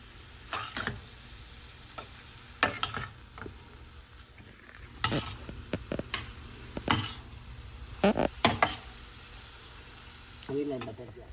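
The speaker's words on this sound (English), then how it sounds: "Keep stirring with soft hand, gentle hand." Tawa pulao with lemon is stirred gently in a pan, making intermittent scraping and clinking strokes in short bursts over a quiet sizzle, with pauses between them.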